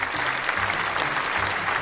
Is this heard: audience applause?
yes